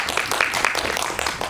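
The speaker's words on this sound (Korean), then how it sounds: "박수 한번 주세요" Brief burst of audience applause at a film screening talk, many hands clapping in a quick, even patter, moderately loud and lasting only a moment.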